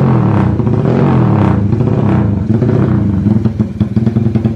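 A Honda Tiger motorcycle with a loud aftermarket exhaust revs up close, growling and rising, in rain. It breaks into sharp, choppy pulses as the throttle blips.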